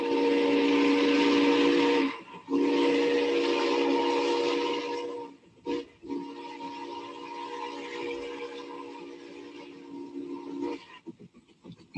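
A loud, sustained steam whistle blows with brief breaks, then fades into the chuffing hiss of a steam engine before sounding again near the end.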